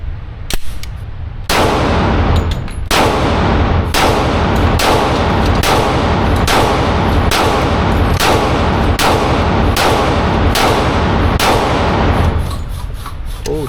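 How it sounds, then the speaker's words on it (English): A Glock 20 Gen 4 in 10mm fires a fast string of about a dozen loud, sharp reports at fairly even intervals, each ringing briefly, close to the listener. "Glock 20 Gen 4, 10 mil. My first time shooting a 10 mil."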